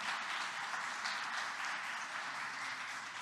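Church congregation giving a round of applause during an evening service, steady, fairly soft clapping from many hands filling the room without any talk.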